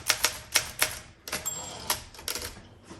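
Rapid keystrokes on a 1968 Olympia SM9 manual typewriter, close and crisp, a quick run of sharp strikes followed by a denser burst of typing with a brief ring, no talking.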